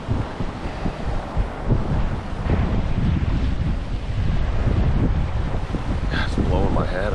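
Gusty wind buffets the microphone outdoors on open water during a fishing trip, a loud rumbling rush that swells and eases, with water lapping beneath and a voice briefly heard.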